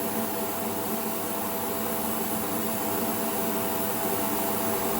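An airbrush with a 0.5 nozzle sprays black paint in a booth, hissing in a steady, unbroken spray from start to finish, with a constant mechanical hum underneath.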